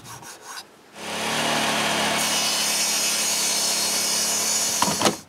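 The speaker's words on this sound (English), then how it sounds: "I'm going to cut a strip to fill the gap in between the rails" A wood strip being cut with a saw to fill a gap between chair rails, a steady continuous rasping stroke that starts after a brief pause and runs close and loud for several seconds, no talking.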